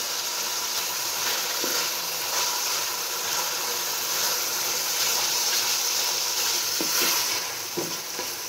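Ginger garlic paste fries in a hot pan, giving a steady, loud sizzle with soft stirring scrapes throughout and no talking.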